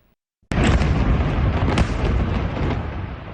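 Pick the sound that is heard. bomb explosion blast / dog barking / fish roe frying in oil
bomb explosion blast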